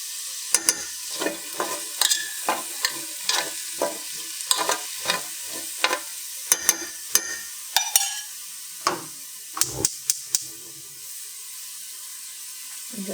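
Minced garlic frying in a little oil, a steady close sizzle broken by frequent sharp scraping and tapping strokes from stirring, irregular in rhythm.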